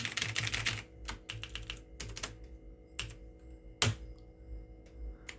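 A computer keyboard is typed on nearby in quick bursts of soft clicks with short pauses between them, and one sharper key strike stands out. The clicking is quiet and close, with no voices.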